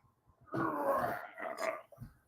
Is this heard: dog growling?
yes